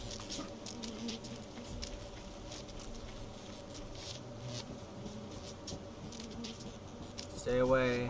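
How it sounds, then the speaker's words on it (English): Bees buzz in a steady, dense drone throughout, with people talking over and around the insect noise. "Stay away, you damn bees!"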